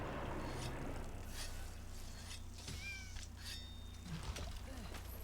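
Feline companion meowing during a Monster Hunter hunt, several bright game-cat meows over a constant low rumble of game ambience and effects.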